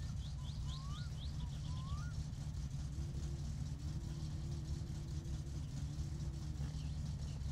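In the video game My Summer Car, a car engine drones in the distance and slowly rises as it approaches, under a steady low rumble, with a few bird chirps early on.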